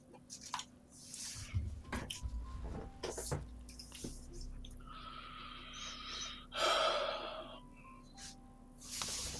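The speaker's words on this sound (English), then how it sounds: "Bit of heavy breathing." Heavy breathing with gasps and snorts comes from a man shuffling about in the background of a quiet room, set against intermittent clicks and rustles, with a louder burst of breath near the end.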